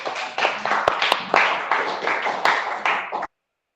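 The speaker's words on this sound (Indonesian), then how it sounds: "Kita berikan aplaus dulu" Students applaud a classmate in a religion and ethics class, a brief round of close, uneven hand clapping lasting about three seconds before stopping abruptly.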